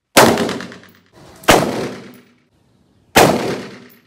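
Three loud rifle gunshots ring out one after another, each a sharp crack with a long echoing decay, spaced over a few seconds.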